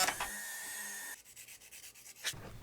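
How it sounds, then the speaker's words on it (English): Quiet, close rubbing of sandpaper on 3D printed wing tubes for an F2A Buffalo model. A smooth, steady scrape comes first, then shorter back-and-forth strokes, ending with a brief louder swipe. "Wing tubes are trimmed and sanded."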